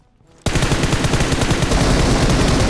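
Rapid automatic gunfire from PUBG Mobile bursts in loudly after a brief quiet moment, then continues as a dense, unbroken stream of shots to the end.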